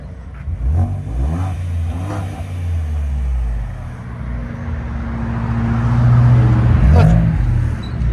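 A Ford Edge ST with the 2.7L EcoBoost engine, LCGP resonators and a rear muffler delete revs repeatedly, its exhaust rising and falling in a deep, droning note that swells loudest near the end.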